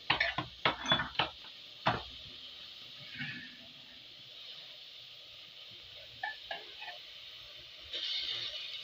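Metal spoon clinking against a cooking pot as onion and ghee go in for a chicken neck salan, several sharp knocks close together at the start, then sparse light taps and soft kitchen clatter.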